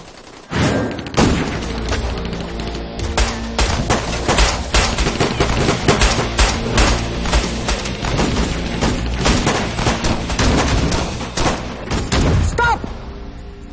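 Sustained gunfire rattles in dense, rapid bursts for several seconds, loud and close, with heavy booming impacts mixed in.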